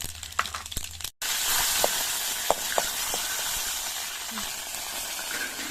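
Cumin seeds frying in a pan for a tamarind and ajwain-leaf chutney, with a steady bright sizzle that starts abruptly after a few clinks and carries on evenly, with occasional small pops.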